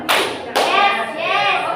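A group of students in a classroom claps in unison during a group activity. Two sharp, loud claps land about half a second apart, followed by a brief murmur of voices.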